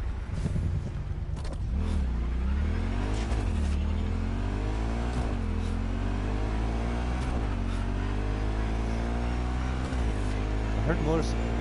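A motorcycle engine in Cyberpunk 2077 drones steadily while riding, its pitch climbing and dipping in repeated rev swells over a low rumble, with someone talking over it now and then.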